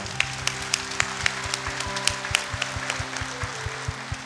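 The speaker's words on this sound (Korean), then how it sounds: "우리 부모님들께 감사하는 마음을 담아서 박수를 보내드립니다." A church congregation claps in a steady, even rhythm over sustained, held tones, with the claps fairly distant and moderately loud.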